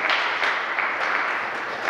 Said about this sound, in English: So I'd like to give her another round of applause and thank her very much